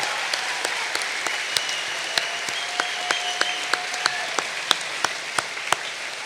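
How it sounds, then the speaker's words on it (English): Sparse applause at a graduation ceremony honoring a retiring elementary school teacher, with scattered individual claps ringing out at an uneven rhythm over a quiet room. "And now let's get one huge round of applause as Mr. DeVere stands up for his 32 years at Everson Elementary."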